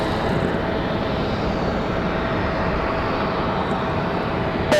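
SAS airliner jet engines at Raleigh-Durham International Airport at night, a loud, steady broadband roar holding evenly throughout, heard close and without voices.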